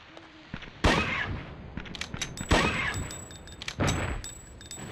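Gunshots in the PlayStation game Dino Crisis: a few sharp, spaced shots ringing out with short tonal echoes between them, moderately loud over quiet game ambience.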